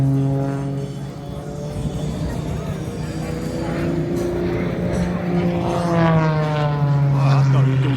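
Propeller aircraft flying low over the runway at the 2021 MCAS Cherry Point air show, a loud steady engine drone with shifting pitch as it climbs, while spectators talk nearby.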